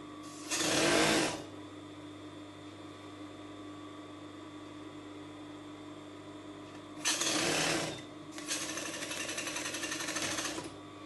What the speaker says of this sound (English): This one I'm just going to overlock the shoulder with an overlock machine